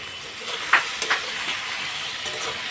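Soy sauce sizzling as it hits a hot pan of chilli paneer, a continuous loud hiss with a couple of brief spatters and stir clicks.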